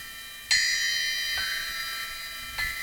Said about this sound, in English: these two bell cymbals up here work very nicely together